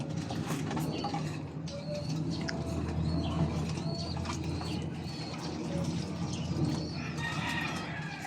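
Breeder pigeons in a loft cooing and murmuring continuously at close range, their low coos overlapping against a soft, steady background.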